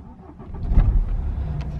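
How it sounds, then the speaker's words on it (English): A car engine starts up with a quick crank that catches into a low rumble and settles to a steady idle, heard close and alone. "So we'll start that up right now."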